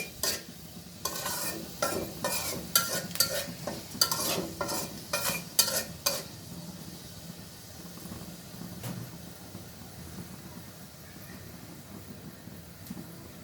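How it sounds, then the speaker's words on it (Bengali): Panch phoron and dried chillies hitting hot oil, giving a loud burst of crackling, spitting sizzle with sharp pops over the first six seconds, then settling into a quieter, steady sizzle. "দিয়ে দিলাম পাঁচফোড়ন আর শুকনো মরিচ"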